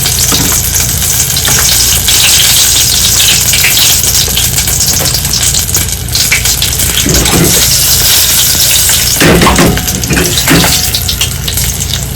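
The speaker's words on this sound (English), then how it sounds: "you want your chili just to simmer in the oil" Chili simmering in hot oil in a pan for birria tacos, a loud, steady, close sizzle and crackle running the whole time, with a few brief stirring clatters and no talking.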